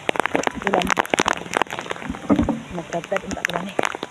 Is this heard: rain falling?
yes